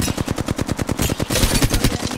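Rapid automatic gunfire in the video game Apex Legends, a fast, evenly spaced burst of loud shots at close range, followed by a denser, slightly blurred stretch of continued firing.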